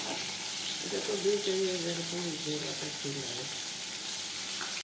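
Spiced rohu fish pieces frying in oil in a pan, a steady even sizzle throughout with a voice faintly heard in the middle.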